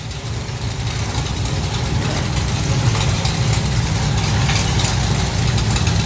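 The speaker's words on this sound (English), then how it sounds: "Mick Checkett with his second run in the Supercharged Outlaw Slingshot" A supercharged outlaw slingshot dragster at a hot rod drag race meeting makes a loud, steady, rumbling idle that holds constant and slightly grows in strength. There are no sharp revs.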